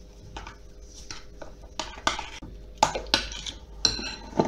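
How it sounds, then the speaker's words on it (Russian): Spoon stirring cottage cheese and pumpkin mixture with sugar in a bowl, close irregular scraping and clinking strokes. "Сахар по вкусу, как я и говорила. И все это перемешиваем."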